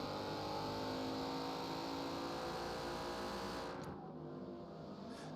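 McLaren race car in a sim racing production car endurance event at Homestead-Miami, engine roaring steadily at high revs for several seconds, close and loud, easing slightly near the end.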